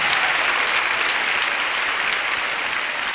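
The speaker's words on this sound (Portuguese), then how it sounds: "Você pode aplaudir ao Senhor mais uma vez." A church congregation claps and applauds in worship, a steady, dense wash of clapping that stays loud and even throughout with no voices on top.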